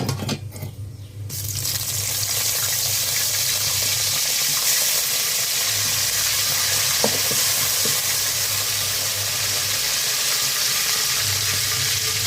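Fennel seeds, fenugreek and curry leaves sizzle in hot oil, a steady close hiss that runs unbroken after a brief quieter start, with a few small crackles.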